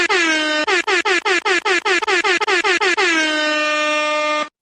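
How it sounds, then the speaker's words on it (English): A loud air horn blares, then fires a rapid burst of short repeated blasts before holding one long final blast. "Can I get some air horns in here for that boy?"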